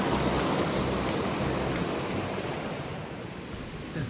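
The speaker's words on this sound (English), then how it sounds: "The first hikers are fording the river." A cold mountain river on the Pacific Crest Trail rushes loudly and continuously as hikers ford it, a dense broadband roar of flowing water close by, slowly easing slightly.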